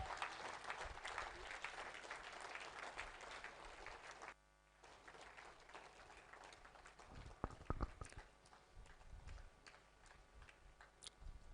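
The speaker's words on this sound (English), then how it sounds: "Please, a resounding round of applause for our guest speaker." An audience applauds a guest speaker at a memorial lecture. Clapping is dense in the first four seconds, breaks briefly, then returns in thinner, scattered claps with a few louder bursts.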